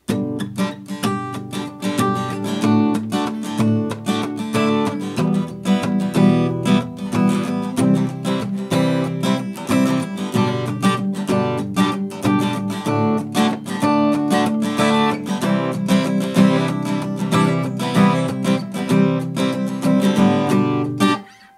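A strummed guitar plays a steady, driving rhythm with short, choppy muted strokes, continuous and fairly loud throughout, with no voices.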